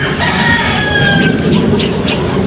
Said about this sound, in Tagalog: tingnan mo yung manok ko